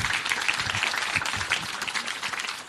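Audience at an open public meeting in Łomża gives sustained applause, a dense even patter of many hands clapping throughout, fairly loud and close, with no speech over it.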